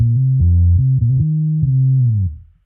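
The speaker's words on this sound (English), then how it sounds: "the woofer pickup of my Yamaha Attitude bass, which sounds like this" A Yamaha Attitude bass played on its woofer neck pickup through a pedalboard: a short run of deep, thick sustained notes, close and loud, ending in a fade.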